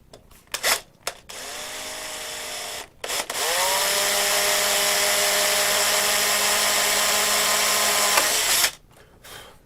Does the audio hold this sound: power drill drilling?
yes